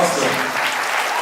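Loud, sustained clapping from a live show audience fills the moment, dense and even, with a hint of voices mixed faintly beneath the applause.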